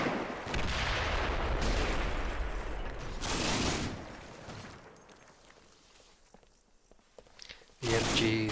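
Bursts of machine gun fire and scattered shots from a World War II battle in the Combat Mission game, loud and dense at first, then thinning to a quieter lull before a sharp burst returns near the end.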